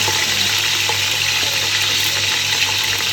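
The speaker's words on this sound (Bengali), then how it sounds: "তেলটা গরম হয়ে গেছে, একটু আদা রসুন বাটা দিয়ে দিলাম" Ginger garlic paste hits hot oil for pulao, giving a steady, loud, dense hiss of sizzling that holds evenly throughout with no pauses and no voices.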